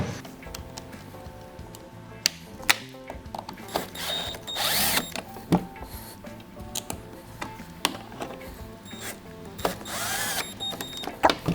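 Screws are driven into the cover plate of an FCS Wizard kayak steering kit, heard as repeated short mechanical ticks and clicks from a close driver, with brief whirring bursts and scraping handling noises between them.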